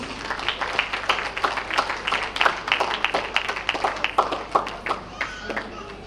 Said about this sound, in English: Give her a round of applause, please.